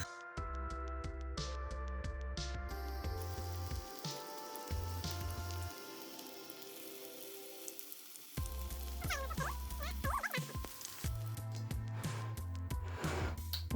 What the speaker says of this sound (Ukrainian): тепер можна обжарювати з двох сторін